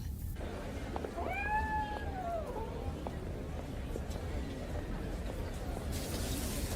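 A cat meows in a drawn-out, wavering cry, followed by a couple of fainter calls, over a constant dense background rumble in a movie scene.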